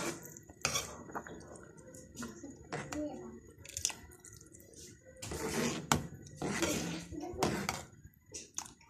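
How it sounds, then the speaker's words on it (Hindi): A metal spoon stirs cornflour into chicken corn soup in a pot, giving irregular clinks and scrapes against the rim, with some talking in the background. "चम्मच हम चलाते जाएंगे।"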